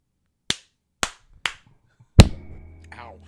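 Four sharp hand claps: three evenly spaced single claps, then a louder fourth clap followed by a short burst of jumbled noise and a murmur of voices in a room.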